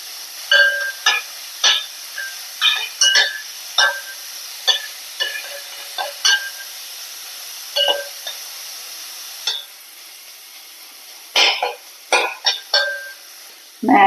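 Onion and green chilies frying in sunflower oil for a Maggi egg masala, a soft hiss beneath repeated close clinks and scrapes of stirring, coming in irregular bursts with short pauses between.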